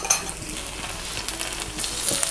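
Tofu fries in a pan with a little oil over low heat while being pushed aside with a utensil, an even, close sizzle with light scraping and stirring sounds throughout.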